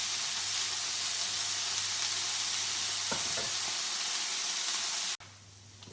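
Spinach sautéing in a pan before ackee is added, a loud, even sizzling hiss with a couple of stirring clicks, dropping suddenly to a quieter hiss just before the end.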